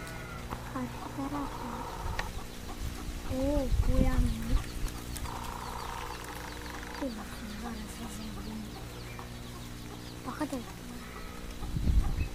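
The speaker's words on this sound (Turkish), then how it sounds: "burada da yine tavuklarımız ve civcivlerimiz var" Chickens cluck and chicks peep in short scattered calls, close by, over a noisy outdoor background with a voice speaking at times.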